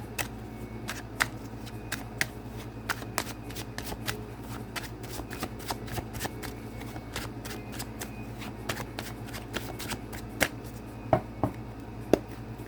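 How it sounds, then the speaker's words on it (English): Rapid, crisp riffling and snapping of tarot cards being shuffled over and over, close up, with soft background hum and no talking. "I'm shuffling the cards."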